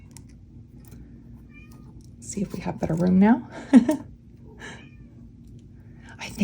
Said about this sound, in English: you hear Lily meowing